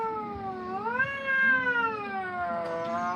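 A Persian cat with heavily matted fur meows loudly and continuously in long, drawn-out, rising and falling wails during a warm bath, close up, with no talking.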